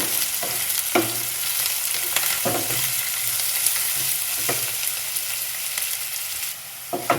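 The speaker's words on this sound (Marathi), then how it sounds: "आलं लसूण पेस्ट. कांदा थोडा लालसर होऊन द्यायचा." Onion and ginger-garlic paste fry in a pan for a mixed vegetable dish, with a loud, continuous sizzle broken by repeated sharp stirring scrapes against the pan.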